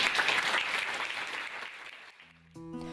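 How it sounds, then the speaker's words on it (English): A crowd applauds, a broad wash of clapping that fades away over two seconds, followed by a brief soft musical tone at the end. "So I'd really love it if you could give yourselves all a round of applause"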